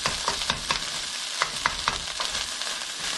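Egg and rice are stir-fried in a pan for fried rice, with a steady close sizzle and repeated scraping, tapping strokes of a utensil breaking up the rice.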